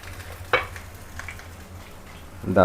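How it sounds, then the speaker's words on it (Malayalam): Sweetcorn and tuna vada deep-fry in hot oil, a faint low bubbling sizzle broken by two brief louder crackling bursts, one early and one swelling at the end. "ഇനി നമുക്ക് നല്ല രീതിയിൽ ഫ്രൈ ചെയ്തെടുക്കാം."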